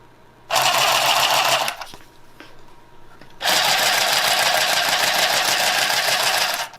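Sewing machine stitching a seam on a Valentine's Day craft, two loud sustained runs of steady motor whir and rapid needle chatter separated by a brief pause with light handling noise.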